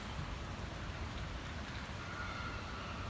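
Steady out-of-season summer rain falling in Alexandria, a dense, even hiss of drops on surfaces that holds constant and fairly faint throughout with no voices.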